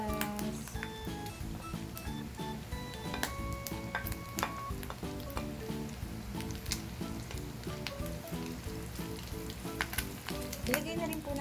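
Onions hitting a hot pan while cooking Bicol Express, a soft but steady sizzle with busy stirring clicks and scrapes throughout, and no voice heard.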